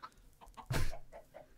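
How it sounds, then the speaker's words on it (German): Minecraft chickens cluck in a series of short soft bursts, with one louder flapping squawk in the middle, close and clear with no talk over them. "Ach, Hühner, ihr seid doch blöd."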